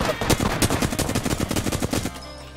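Rapid automatic gunfire in a shooter video game, a loud, close burst of fast repeated shots lasting about two seconds, then cutting off abruptly.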